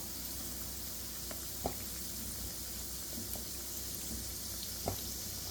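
Fish roe pakoda frying in oil gives a quiet, even sizzle throughout, broken by a couple of soft clicks and pops as pieces sit in the pan.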